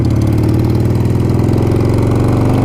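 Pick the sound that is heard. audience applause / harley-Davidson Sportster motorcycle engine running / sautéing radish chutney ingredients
harley-Davidson Sportster motorcycle engine running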